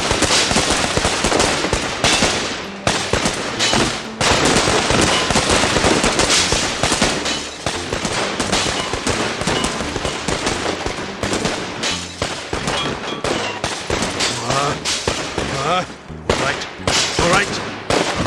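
Weapons firing in the video game OverBlood 2, dense rapid bursts of gunfire crackling almost without pause, loud and close, with a few brief gaps between volleys.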